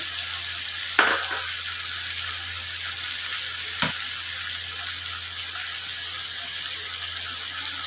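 A hilsa fish head fries in a pan with a constant, close sizzle, marked by two brief knocks of stirring or turning.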